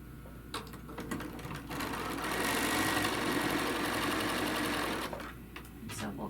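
A sewing machine runs continuously while stitching rows of a quilt block, a steady whirring hum close by that swells briefly and then eases, with faint talk in the background.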